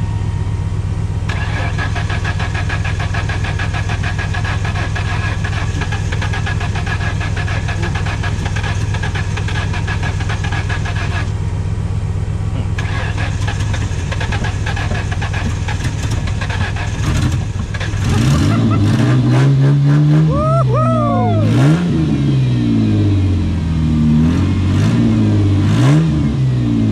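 A Chevy car with a jump pack attached idles with a steady hum. The engine then cranks and catches, revs sharply several times with rising and falling pitch, and settles into a rough idle, with faint voices nearby.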